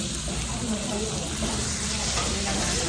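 Sliced bacon and pork belly frying on a hot Korean grill plate, sizzling and spitting steadily and loudly, with a voice speaking over it.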